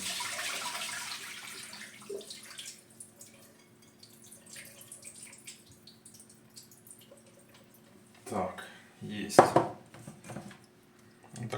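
Marinade is poured off marinated bream in a kitchen: a faint watery trickle at first, then quiet drips and clinks of dishes, ending in a couple of louder splashing pours.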